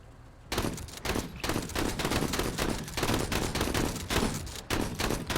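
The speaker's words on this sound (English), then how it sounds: "Mate, you can stop shooting" Sustained gunfire in the video game MENACE sounds as dense, loud, overlapping bursts of shots that run almost without pause after a brief quiet start.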